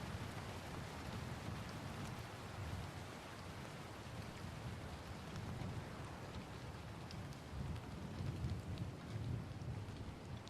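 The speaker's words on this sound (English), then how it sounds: "See, now it's raining again" Steady heavy rain with low rumbling thunder in the indie MMO Ruins of Tearyn, a continuous dense downpour with rolling rumbles swelling now and then, no voices.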